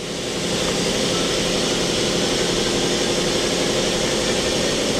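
Steady, loud mechanical whir of a Mori Seiki MT2000SZ multi-axis CNC milling turning center spindle running at about 3000 RPM, a continuous even hum without pauses.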